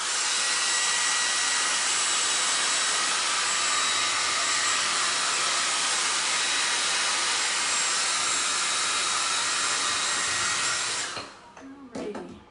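A hair dryer blows with a loud, steady, close roar over a salt-washed wooden frame for about eleven seconds, then cuts off and leaves brief clatter and handling sounds.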